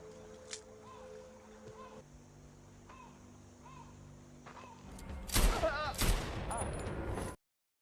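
Laser gunfire in a scene from the 2023 film Cascade: a low hum and faint tones give way to a few loud, harsh blasts clustered near the end, then sudden silence.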